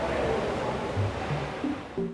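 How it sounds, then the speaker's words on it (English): Sewage water flowing at a Brooklyn sewage treatment plant: a steady, fairly quiet rushing wash with a few faint brief tonal sounds near the end. "This is sewage water."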